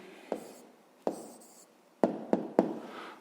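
A hand writes down the answer to a fifth-grade math problem on paper. About five short, crisp scratchy pen strokes come close and quiet, with pauses between them and no talk.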